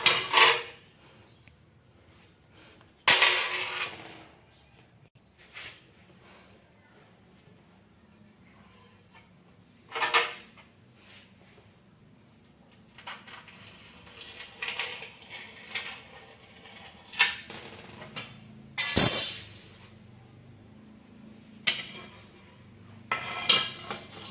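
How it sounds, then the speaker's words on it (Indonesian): Glass being scored and cut with a spark plug, giving sharp isolated clicks and snapping cracks with faint scraping and clinking between them, close and fairly quiet with no talking. "kita coba untuk memotong kaca apakah bisa atau tidak."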